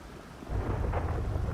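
Rain falls steadily in a GTA V street scene, then a low rumble of thunder rolls in and lingers, a continuous hiss under a deep, muffled rumble.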